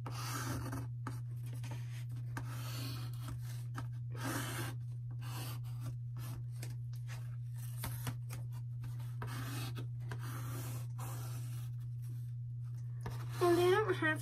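A pen or marker scratches repeatedly across a wooden gingerbread house in short rhythmic strokes, close and clear over a steady electrical hum, with a brief voice near the end.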